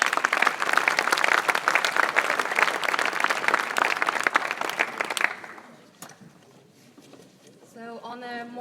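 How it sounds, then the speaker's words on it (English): A conference audience breaks into loud, sustained applause for about five seconds, then the clapping fades out and a voice starts talking in a quieter room. "a big applause to you and your work"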